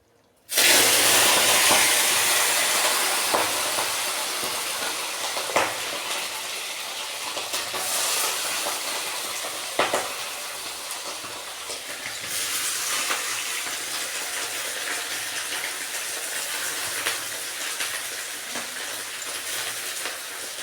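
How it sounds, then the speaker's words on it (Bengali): Chili, garlic and onion drop into hot oil in a wok, bursting into a loud, sudden sizzle that holds as a dense, steady hiss with occasional crackles. "এগুলো আমি এখন ভেজে নিব।"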